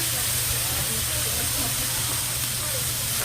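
Meat sizzles on a large wood-fired iron griddle, a steady close hiss with low rumble running unbroken throughout.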